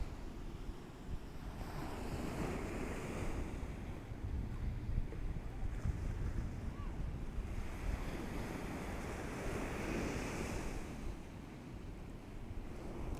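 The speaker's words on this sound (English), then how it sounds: "It's pretty loud, the surf." Rough ocean surf rolls and crashes steadily, a broad roar of breaking waves with gusts of wind buffeting the microphone and no voices.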